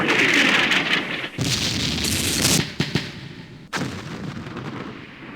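Smoke rounds fired in the wargame Campaign Series Middle East, set in an Arab-Israeli war: dense, rumbling artillery blasts with booming bursts and crackling decay, loud and continuous with a few sharp breaks.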